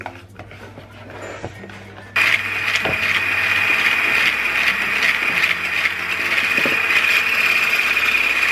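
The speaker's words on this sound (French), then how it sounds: "on va monter déjà les blancs en neige" A steady electric mixer whirs as it whips egg whites into stiff peaks, a high motor whine that kicks in abruptly after quieter kitchen sounds and holds loud and even to the end.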